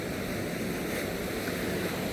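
Ocean waves break on a sandy beach in a continuous, even roar of surf and rushing water, close and steady throughout with no voices.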